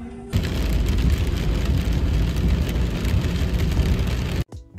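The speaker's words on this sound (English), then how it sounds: "I just needed y'all to hear how loud it was actually raining." Heavy rain pounds loudly on a car, a dense, steady roar that starts abruptly and cuts off near the end, with no talking.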